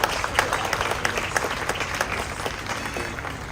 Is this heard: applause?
yes